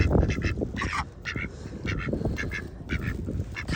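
Several ducks on a windy lake quack in short repeated bursts, loud and close, over steady wind noise, with no talking.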